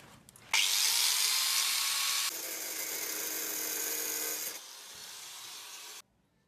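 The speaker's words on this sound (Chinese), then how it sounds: "现在我们再把这个上面螺帽全部给它切掉" A power tool cuts through a rusted screw nut on a gas stove, a loud continuous high grinding whine that drops in pitch partway through and stops abruptly near the end.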